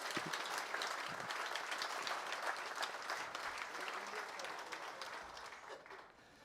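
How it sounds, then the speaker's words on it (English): Sustained applause from the audience at a Northeast Dirt Modified Museum and Hall of Fame induction ceremony, honoring Guy Madsen, a dense even clapping throughout that tapers slightly toward the end. "How about one more round of applause, ladies and gentlemen, for Guy MADSEN."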